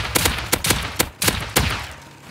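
Automated turret shots in a base-raiding survival game, about six sharp, evenly spaced bursts roughly every half second, loud and close, then fading into quiet.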